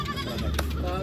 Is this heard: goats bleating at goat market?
yes